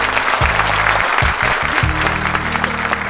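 Audience applause at a political gathering, loud dense clapping filling the whole stretch, with a low hum beneath.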